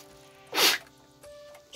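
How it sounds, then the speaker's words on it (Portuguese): A single sharp, loud sneeze from a person close by, cutting through a quiet room with faint tonal background sound. "Espirrei."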